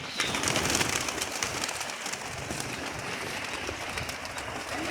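Pigeons coo softly amid a dense, rustling outdoor background of flapping and shuffling, continuous throughout.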